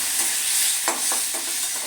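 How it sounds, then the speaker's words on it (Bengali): Constant hissing sizzle of a ginger and cumin paste frying with tomato in a pan, with a few short scraping stirs of a spatula. "খুব ভালো করে আদা জিরেটা আমি টমেটোর সঙ্গে ভেজে নেব"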